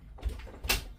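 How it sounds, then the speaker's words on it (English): A household door pushed shut indoors, one soft thud followed by a brighter bump or latch click near the end, fairly quiet and close with no talk over it. "Door is shut."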